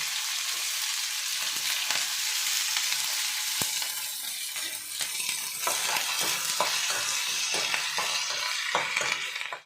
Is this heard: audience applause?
no